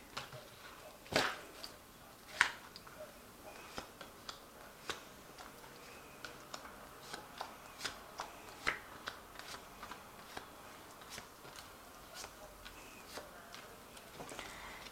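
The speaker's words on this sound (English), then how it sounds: "So I'll just draw some cards from it." Vikings Tarot cards being shuffled and handled, producing soft irregular flicks and taps with a few sharper snaps, close but quiet.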